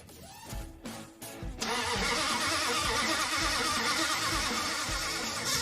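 A 1966 Buick Special engine cranks with a few short bursts of starter effort, then catches and settles into a steady, loud, rough running roar.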